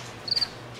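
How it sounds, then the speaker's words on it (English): A short burst of cricket chirping, a few quick pulses in a quiet background, faint and brief. "You hear the crickets?"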